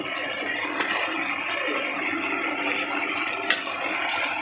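Water pours steadily into a cooking pan of sautéed onion and tomato, a continuous broadband rush with two brief sharp splashes, near and fairly loud, with no talking.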